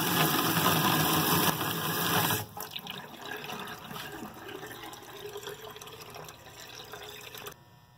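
A stream of water strikes a weighted lever arm in a Bernoulli demonstration, a loud splashing gush at first that drops to a softer continuous trickle and spatter, then stops near the end.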